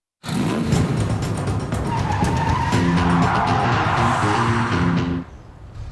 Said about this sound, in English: Brake, I hit the brakes again!